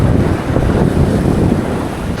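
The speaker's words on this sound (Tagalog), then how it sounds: "gabi lakas ng hangin" Loud, constant wind buffets the microphone in a dense roar at night on the shore while fishing as rain begins, with a hint of water washing nearby and no voices.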